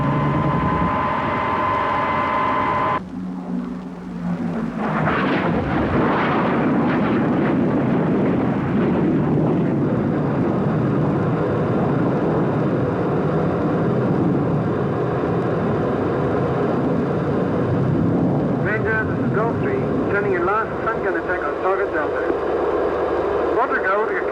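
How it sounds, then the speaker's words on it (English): Bomber and fighter aircraft attack with bombs and strafing runs, heard as a loud, continuous roar of engines and blasts with a noisy, old-recording quality. A voice talks over the din for most of its length. "The fighter force came in afterwards to back up the bombers with strafing attacks."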